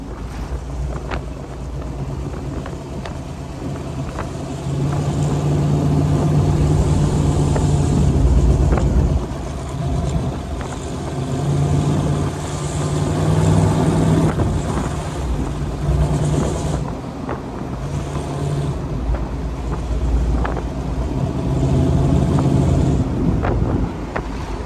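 A 1956 Corvette convertible with its 265 V8 runs on the road, a steady engine drone rising and easing through gear changes, mixed with heavy wind buffeting from the open top throughout.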